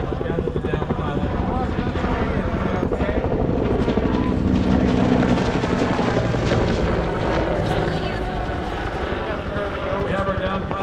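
A single-engine UH-1 Huey military helicopter flies nearby with a loud, steady rotor chop and engine whine that holds for the whole stretch, while a voice talks under the noise.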